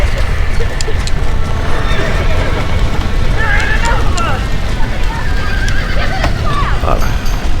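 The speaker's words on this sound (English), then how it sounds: "Now let's save the horses!" Horses whinny and neigh amid clip-clopping hooves in the Red Dead Redemption video game on Xbox Series, several loud calls over busy game noise and background chatter.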